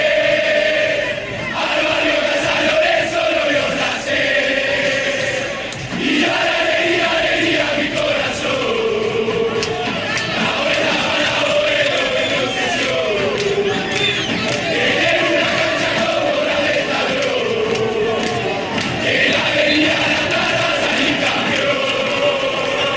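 San Lorenzo football fans sing a stadium chant in unison, a loud, sustained wall of massed voices with rising and falling melodic lines that holds steady across the whole stretch.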